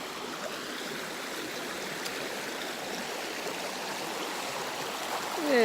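Cold stream water runs steadily along the Appalachian Trail on a hot, humid day, giving a continuous, close rushing wash with no talk.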